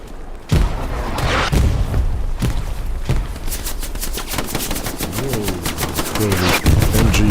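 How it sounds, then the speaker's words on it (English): MG42 machine guns in the video game Hell Let Loose fire rapid, loud rattling bursts, opening with heavy thumping shots and then settling into fast sustained automatic fire. "Whoa. MG42s there."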